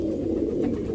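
Low, soft cooing of pigeons, a brief murmuring burble heard close up with no voices.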